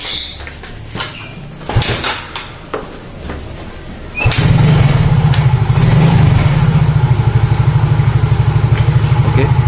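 A motorcycle with a DC ignition system and a badly drained battery is kick-started after some clunks and scrapes, then settles into a steady, loud, close idle that runs through the rest of the sound.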